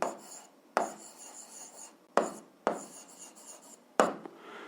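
Pen writing out an algebra solution on paper, a series of short scratchy strokes with distinct taps at each new stroke, close and quiet, with no talking.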